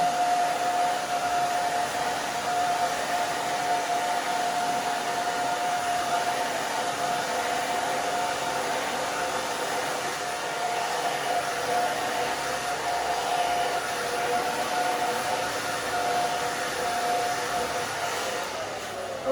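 A hair dryer blows steadily while hair is styled after a pixie cut grows out, a loud continuous whoosh with a thin high whine running through it, unbroken for the whole stretch.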